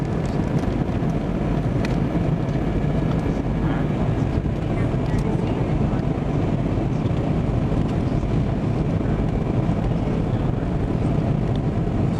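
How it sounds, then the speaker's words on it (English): Airliner cabin drone during descent to land in Miami over the Everglades, a steady broadband roar with rumbling low end and wind buffeting that holds level throughout, near and constant, with faint background voices. "Over the Everglades right now. Coming in for a landing in Miami."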